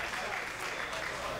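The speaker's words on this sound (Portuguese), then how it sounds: "sendo aplaudido de pé pela torcida que marca presença aqui na arena do Contender em Las Vegas" Standing ovation from the arena crowd at the Dana White's Contender Series venue in Las Vegas as a UFC fighter leaves the octagon; steady, dense applause runs under a commentator talking.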